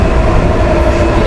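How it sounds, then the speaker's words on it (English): A train rumbles loudly up close on a preschool trip in Washington, D.C., with a dense, steady roar of rolling wheels and carriage noise under faint chatter. "the train."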